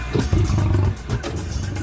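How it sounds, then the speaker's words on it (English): A massive prehistoric American lion gives a deep, rumbling roar, two heavy guttural bursts close and loud with a brief pause between them. "And the massive American lion."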